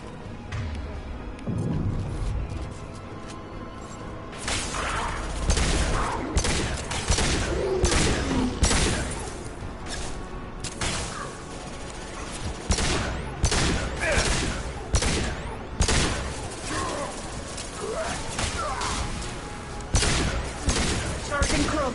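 Dense sci-fi gunfire in the video game Mass Effect 2, with rapid overlapping shots and impacts in a sustained firefight, broken only by short pauses and heard alongside game dialogue.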